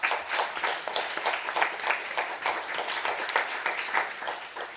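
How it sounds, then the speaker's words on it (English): Lively audience applause for four presentations at a climate event, with individual claps audible in a fairly close, rhythmic, sustained round. "I'd just like to invite you all to give a massive round of applause to our four"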